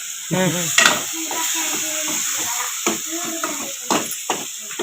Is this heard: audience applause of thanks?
no